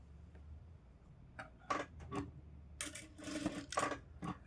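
A sewing machine stitches the side seam of a blouse in short, uneven bursts. The whirring starts and stops several times, close up and at moderate volume over a quiet background.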